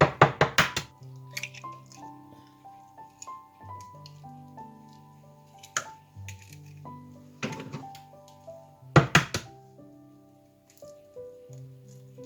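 Eggs cracked and separated in a kitchen for an apple cake batter, with sharp taps of shell against a bowl in quick clusters, separated by quieter gaps and a few softer knocks.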